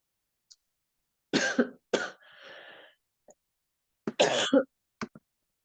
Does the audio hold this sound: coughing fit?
yes